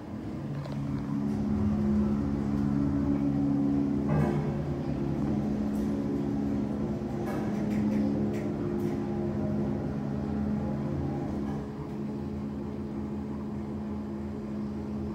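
A KONE hydraulic elevator motor at a WMATA station hums steadily, a low droning whine that holds for the whole stretch, moderately loud, with faint clicks and no talking.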